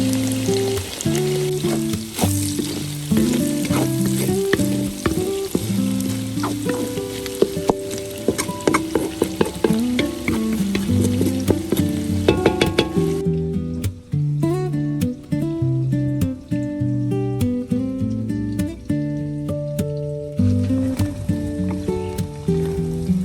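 Vegetables stir-frying with garlic and onion in a hot pan: a continuous sizzle with repeated clacks and scrapes of stirring. The frying is loud at first and eases somewhat later on.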